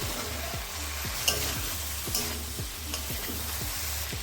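Fried egg pakoras are stirred in a hot, sizzling pan, a spatula scraping in quick, even strokes about twice a second over a constant frying hiss, close up and without speech.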